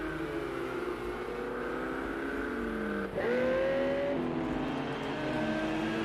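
Race cars lapping Hockenheimring in a racing video game, several engines whining at steady pitch with one car shifting and climbing sharply midway, a continuous layered drone.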